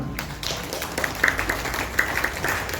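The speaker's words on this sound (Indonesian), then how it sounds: "beri tepuk tangan untuk Miss Fira" A group at a school industrial-visit event gives brief, light applause for a presenter, scattered claps without a full ovation.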